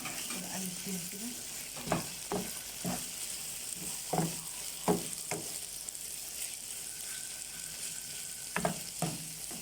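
Red and green peppers sizzling in a pan with cooked shawarma, with a constant quiet frying hiss and regular sharp scrapes as they are stirred, close by.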